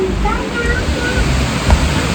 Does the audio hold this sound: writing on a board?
no